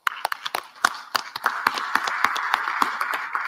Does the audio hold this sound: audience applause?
yes